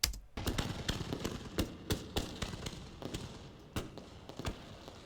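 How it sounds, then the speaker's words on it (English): Rapid, irregular bursts of fireworks cracking and popping in quick succession, loud and sharp with no voices, like a busy finale barrage. "it's like the end of the fireworks show"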